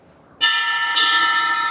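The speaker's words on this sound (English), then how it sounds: "It's basically like a big bell version of a raw bell dry ride that Sabian" A Sabian big bell dry ride cymbal prototype, a larger take on the raw bell dry ride, is struck twice on the bell, each hit ringing bright and metallic, the second overlapping the long sustain of the first.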